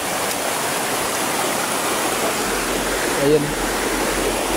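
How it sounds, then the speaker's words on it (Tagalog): A river flowing steadily, a broad continuous rushing wash heard close and fairly loud, with a brief spoken word partway through. "So ito yung ilog mga katropa, kung mapapansin natin."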